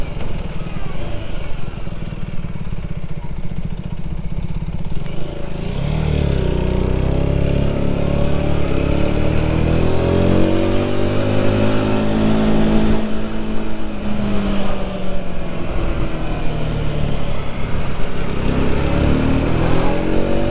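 Rieju Century 125 motorcycle engine revving while riding in wind, a loud steady drone rising and falling in pitch as the revs climb, with wind buffeting throughout.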